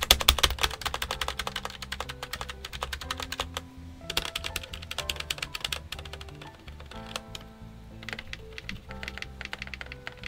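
Rapid typing on a Redragon K628 Pollux Pro 75% keyboard with tape-modded stabilizers: dense, close clacking keystrokes in continuous bursts, with a short lull midway.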